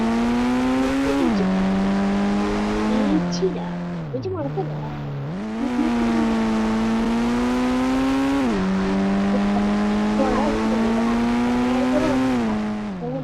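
A Lamborghini Aventador engine in the video game Indian Bike Game drones loudly and continuously, revving up and down with a brief dip as the car turns, with occasional talk over it.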